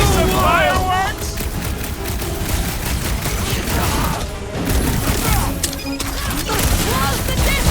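Loud chaotic combat explosions and gunfire burst through a Guardians of the Galaxy video game fight, layered with music and effects, with character voices calling out over the din.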